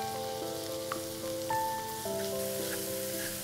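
Paneer tumbles into a spiced mushroom filling of ginger garlic paste, cumin and garam masala, with a soft frying hiss and light stirring sounds beneath steady melodic tones, no speech.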